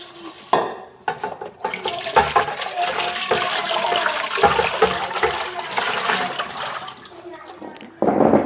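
Strong water rushes steadily for several seconds, a loud, close gushing with clattering knocks of a pot or container, while a voice speaks briefly at the start and end.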